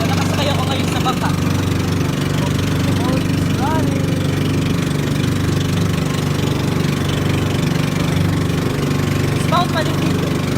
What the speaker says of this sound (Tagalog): Nakasakay ako ngayon sa bangka.